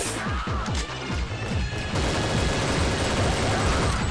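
Gunfire in a video game rattles out in dense, continuous rapid bursts, loud and close throughout with no pauses.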